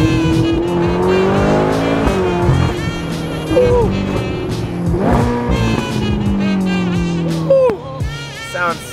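A Ferrari accelerating hard on winding back roads, the engine note climbing and dropping through repeated sweeps and gear changes, loud and close from inside the car.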